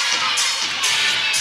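Spectators at a Bowling Green vs. Kent State college gymnastics meet, clapping and cheering in a dense, continuous wash of crowd noise filling the arena.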